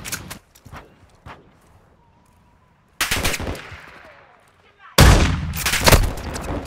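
Gunfire in a Call of Duty match, scattered single shots followed by two loud sustained bursts of automatic fire with reverberant tails, close and punchy, with quieter gaps between.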